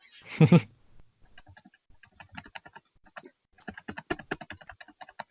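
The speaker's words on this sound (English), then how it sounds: "Liam, I see you clicking around our show notes" Computer clicking and keyboard tapping at a desk during a podcast recording, light rapid ticks scattered through the stretch, growing busier toward the end, faint and close-miked after a brief spoken word.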